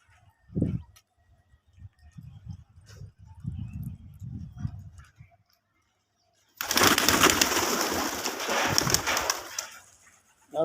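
Good-quality domestic desi pigeons give soft, low, throaty coos in short repeated bursts, close by. Partway through, loud broad rushing noise suddenly takes over and buries them.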